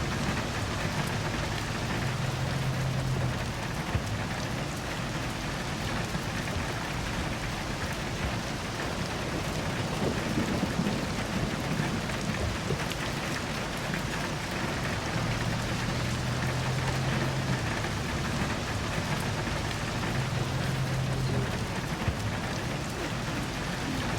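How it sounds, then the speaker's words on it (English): Steady heavy rain pours continuously with a dense hiss in the video game Love and Deepspace, and faint low rumbles suggest distant thunder now and then. "What if the rain never stops"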